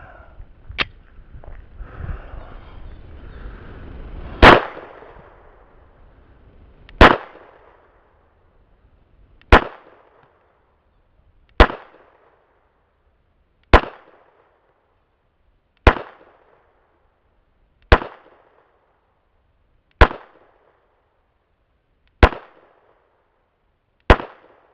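Pistol firing Black Bullets International 230 grain rounds at an outdoor range, ten loud sharp shots spaced evenly about two seconds apart, each trailing into a brief echo, after some faint shuffling at the start.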